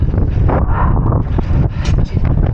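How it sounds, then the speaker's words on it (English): Strong gusting wind buffets the microphone with loud, rough roaring bursts throughout a run. "now I can really hear the wind picking up"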